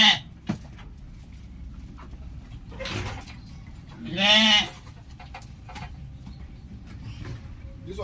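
Goats on a farm in Nigeria: one clear, near bleat rises above a low hum of background noise, with faint thumps and scattered quieter animal sounds around it.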